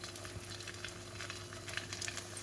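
Egg-and-buckwheat cutlets fry in hot oil, giving a steady, close sizzle with fine crackles and pops and no voices.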